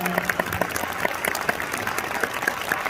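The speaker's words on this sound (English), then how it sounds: "Everybody, huge round of applause for Jaeden." A comic con Q&A audience in Puerto Rico claps loudly and steadily, a dense wash of applause with a few sharper individual claps standing out, sustained for a few seconds.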